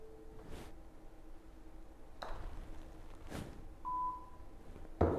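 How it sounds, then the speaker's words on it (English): A single short electronic beep sounds near the end over a quiet background, with a couple of soft knocks earlier and a louder noise at the very end. "as soon as he hears the beep, James will pull the trigger."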